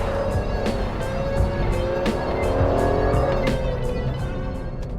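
A 2019 Aston Martin DBS Superleggera pulls hard at speed, its engine note rising in steady loud sweeps with a sharp clicking rhythm riding over the sustained roar, no voices over it.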